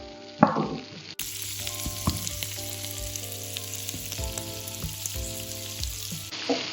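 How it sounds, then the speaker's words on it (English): Vegetables and paneer sautéing in butter in a pan for vegetable jalfrezi, a steady close sizzle with occasional spatula knocks and stirs, and no talking over it. "it's been sauteing for the last 3 minutes"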